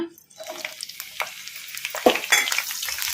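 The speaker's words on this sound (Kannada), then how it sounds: "ಈಗ ಎಣ್ಣೆ ಕೂಡ ಬಿಸಿಯಾಗಿದೆ ಈಗ ಇದಕ್ಕೆ ನಾವು ಕಟ್ ಮಾಡಿ ಇಟ್ಕೊಂಡಿದ್ವಲ್ಲ ಹಸಿಮೆಣ್ಸಿನ್ಕಾಯಿ ಈಗ ಇವನ್ನ ಹಾಕೋಣ" Green chilies dropped into hot oil in a kadai, a brief burst of crackling sizzle with a few clinks of stirring against the pan, growing louder as the frying takes hold, close by with no talking.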